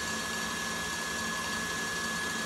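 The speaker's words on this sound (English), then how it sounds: "I'll just swap the bowls over so that we can whisk the cream up." An electric mixer whisks cream in a bowl with a constant, even motor whine and steady whirring hum, moderately loud and uninterrupted, with no voices.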